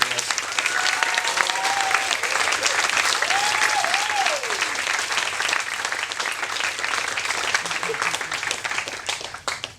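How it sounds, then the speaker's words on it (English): Wedding guests applaud Anne and Les, a dense, steady round of clapping that fills the room, with some crowd voices mixed underneath. "a round of applause to Anne and Les"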